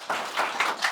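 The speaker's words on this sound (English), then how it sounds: "Let's applaud them." Audience at a Baltic Cloud Forum panel claps for the speakers, a short burst of close, rhythmic hand claps alone without talk.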